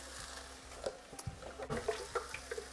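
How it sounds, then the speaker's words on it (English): About 100 ml of water is poured into a kitchen blender to rinse out leftover spinach and chickpea curry paste, making a short, soft splashing and gurgling trickle up close. "So there, I've added the water to the blender so I can get every little bit out."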